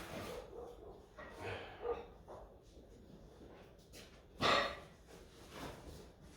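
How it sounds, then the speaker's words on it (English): A dog barks somewhere off in the background during work on fitting the fuel tank of a Willys MB Jeep, with a few soft yips and one louder bark in the middle, moderately distant with no talking. "Sorry about the dog barking"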